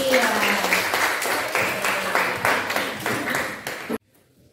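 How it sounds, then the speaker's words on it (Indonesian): A school class applauds, a few seconds of steady close clapping from many hands mixed with some voices, then it cuts off abruptly into near silence. "Tepuk tangan dulu untuk Julia."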